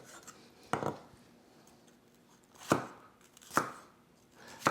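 A kitchen knife chops through peppers into slices on a cutting board, four distinct crisp cuts spaced a second or two apart, close and clear with quiet between them.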